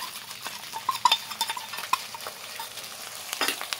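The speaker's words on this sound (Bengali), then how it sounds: "দিয়ে একটু ভালো করে কষিয়ে নেব।" Ground spice paste sizzling and frying in a pan for egg biryani, with steady close scraping and clinking from a spatula stirring it, busy and moderately loud throughout with no voices.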